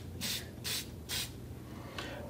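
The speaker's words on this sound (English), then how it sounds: "Always give it a test spray." A sanding sealer spray can, used to seal hard fill on a dented car door panel, lets out four short, even bursts of hissing spray, each under a quarter second, close by with quiet gaps between.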